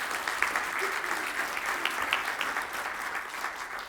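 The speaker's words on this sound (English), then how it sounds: "I want to get everyone to give a big round of applause to Belinda." An audience gives a sustained round of applause in a hall, steady dense clapping that stays at an even level for several seconds with no voices over it.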